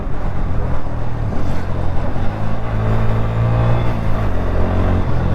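A Bajaj Pulsar N160 motorcycle engine running steadily, rising into a louder rev midway with a rough, droning rumble and wind-like noise throughout.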